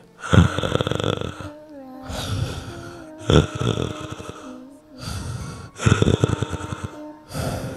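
A voice imitates rough, raspy breathing: several harsh, wheezing inhales and exhales in an uneven rhythm, close and fairly loud.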